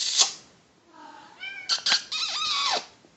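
A pet cat meows indoors in a series of close, rising and falling cries, a short faint call followed by several louder drawn-out meows.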